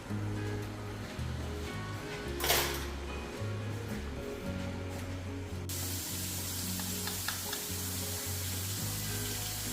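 Water boiling in a pot with three eggs, a steady bubbling hiss with occasional clinks, growing brighter and louder partway through; nobody speaks.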